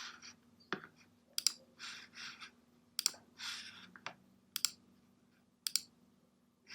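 Several separate bursts of keys clatter on a computer keyboard, with clicks and short typed runs spaced by pauses. The typing is quiet and close.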